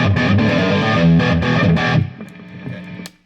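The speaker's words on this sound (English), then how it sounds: "So the first one sounds something like this." A distorted electric guitar plays a quick blues lick in E, dense and gritty for about two seconds before dropping to a few softer trailing notes, close and alone.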